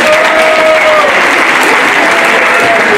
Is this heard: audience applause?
yes